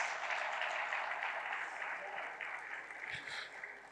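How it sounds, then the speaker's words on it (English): A crowd claps steadily, a dense wash of applause that slowly tapers, fairly distant and soft. "give him the deserved round of applause"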